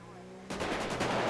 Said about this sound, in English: Oh my goodness, that's a lot of gunfire.